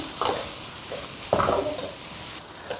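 Pickled cabbage with ginger, scallion and garlic is stir-fried in rapeseed oil in a wok, a steady close sizzle broken by a few scraping spatula strokes, with no talk.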